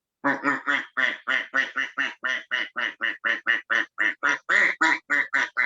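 A person imitates a duck with a long run of steady, evenly spaced nasal quacks, about twenty in a row, loud and close with no other sound.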